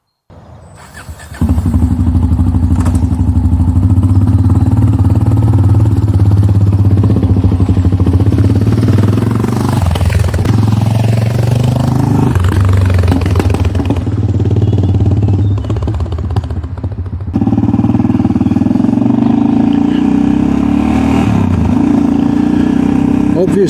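A Yamaha XT660X motorcycle rides along on a summer errand run, its single-cylinder engine droning loud and close with wind rush, easing off and picking up again midway before settling back to a steady cruise.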